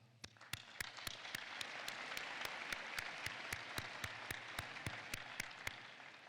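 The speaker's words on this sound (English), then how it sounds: "We applaud each one of you as well." Steady applause from a crowd at a dental school commencement ceremony, a soft continuous patter with sharp regular clicks punctuating it throughout, no talking.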